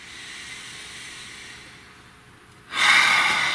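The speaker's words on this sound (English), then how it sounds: "Please take a nice deep breath." After a long stretch of near silence, one deep, close breath rushes in loudly as a breathy hiss and holds to the end.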